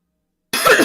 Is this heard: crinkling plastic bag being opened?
no